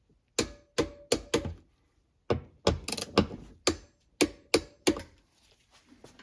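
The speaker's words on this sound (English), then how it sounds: "reinstall the 2 12mm head bolts, and tighten to 18 foot-pounds" A hand ratchet tightens two 12mm head bolts on a Toyota Sienna Hybrid third-row seat, giving quick sets of close, crisp clicks in short bursts with brief pauses between strokes.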